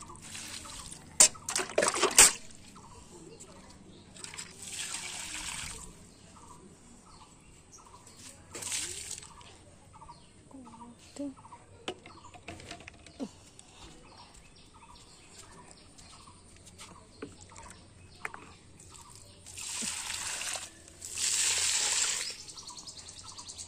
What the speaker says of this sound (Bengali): এরকম করে সব গাছগুলো জল দিয়ে দিই।